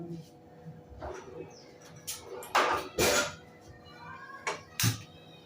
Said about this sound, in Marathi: आता कुकरचं झाकण लावूया